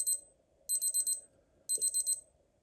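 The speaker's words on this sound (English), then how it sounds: "It's quite a powerful beep, isn't it?" A Casio digital watch alarm beeps in three quick bursts of rapid high-pitched chirps, separated by short gaps, faint over a low background hum.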